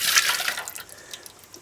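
Liquid is poured into a foaming bread mix in a home kitchen for a cranberry and pepperoni pizza dough, a brief close splashy trickle that fades quickly.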